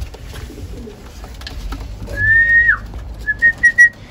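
Racing pigeons at a loft after a 241-mile race, with soft whistly calls and a short run of rising coos near the end, fairly close over a quiet background.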